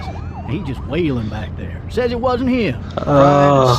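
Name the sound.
police car siren in video game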